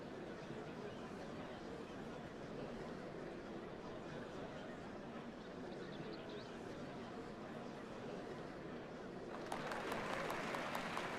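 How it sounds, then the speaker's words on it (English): A crowd in Final Fantasy XIV: Dawntrail cheers and claps as a faint, dense wash of noise that continues throughout and swells slightly toward the end. "What a crowd!"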